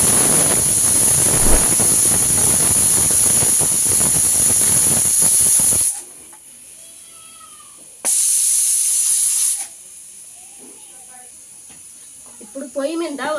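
A pressure cooker vents steam with a loud, sustained rushing hiss for about six seconds, falls quiet, then gives a second shorter burst; faint tonal sounds follow near the end.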